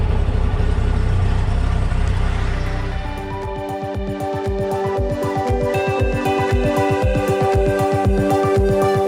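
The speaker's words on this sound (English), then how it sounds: "Let's run the engine until it reaches 100 degree." Yamaha FZ1 motorcycle engine running to warm up, a rough low rumble that settles into a steady rapid idle pulse, close and loud with no voices.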